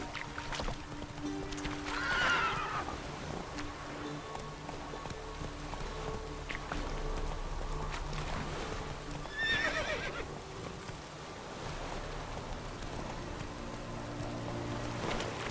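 Roach, the horse in the video game The Witcher 3, gives two clear neighs and trots with a soft, steady clip-clop over quiet outdoor ambience.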